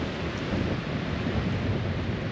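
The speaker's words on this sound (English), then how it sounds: "It's a bit windy, it's a bit cold" Constant, loud wind rumble buffets the microphone outdoors on a beach in South Australia, a broad roaring hiss with no breaks and no voices.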